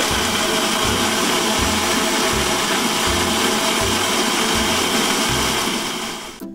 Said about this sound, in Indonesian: Ini di blender dulu.